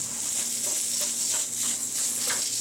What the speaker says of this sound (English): I pre-fry my Italian sausage